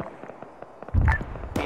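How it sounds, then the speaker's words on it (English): Explosions go off in a military video game set on an Iranian front, a few sharp bangs, the loudest near the end of the moment, heard alone without talk. "So we're hearing some explosions up there."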